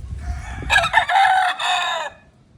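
A rooster crows loudly and close by in a single long, rising call, with chickens clucking softly before it, at a farm where the birds are being given fresh water in midday heat.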